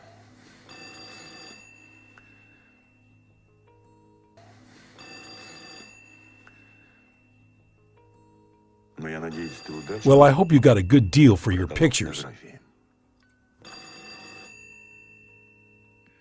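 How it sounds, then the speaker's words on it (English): An old-style telephone bell rings in repeated bursts with pauses between them, while a person talks loudly over one of the gaps. "Pick up the phone."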